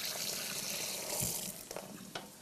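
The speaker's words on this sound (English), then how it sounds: "You always want to make sure that you wash your hands after you deal with raw meat using soap and" Hot water running from a kitchen tap for hand washing, a steady faint hiss of flowing water with small splashes near the end, no voices.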